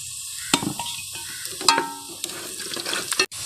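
Onions fry in a pan with salt, turmeric and chili, a close steady sizzle broken by a few sharp spoon scrapes and clinks as they are stirred.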